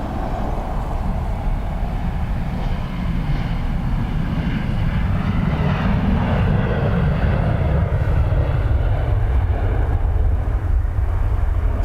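An airliner taking off and climbing at Dublin Airport, a loud steady jet engine roar that sweeps in pitch as it passes, continuous and close throughout.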